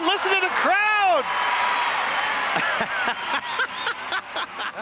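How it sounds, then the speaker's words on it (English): A crowd at a demolition derby cheers and applauds, a broad roar of clapping and voices, with a loud sweeping whoop early on and a close commentator talking throughout. "Listen to the crowd!"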